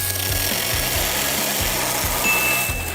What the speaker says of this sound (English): But can it cut an actual tree?